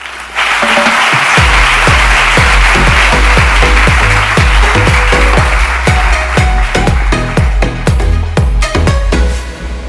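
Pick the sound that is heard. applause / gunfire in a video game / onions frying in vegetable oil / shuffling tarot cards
applause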